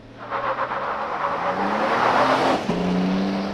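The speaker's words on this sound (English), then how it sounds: "'22 Toyota Tundra TRD PRO prototype without launch control" A 2022 Toyota Tundra TRD Pro prototype with a 3.5-liter twin-turbo V6 hybrid accelerates hard from a launch, its engine note rising loud and close, dipping briefly at a gear change and then climbing again.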